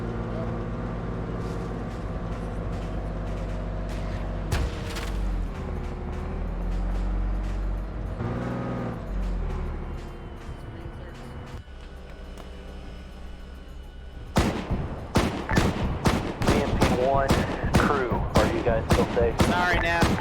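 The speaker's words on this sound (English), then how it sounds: "It's time for aggressive Bradley driving." Bradley armored vehicle roaring along in a military video game, heavy engine rumble and shifting noise giving way to a rapid string of sharp, loud gunfire bursts near the end.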